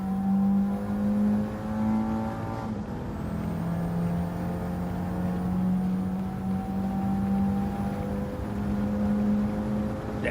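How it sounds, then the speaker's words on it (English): Toyota 3S-GTE engine in a racing video game holding a steady, droning rev with harmonic whine, dipping briefly around a shift and then climbing again, loud and continuous with no talk. "That 3S GTE's got a pretty good sound to it."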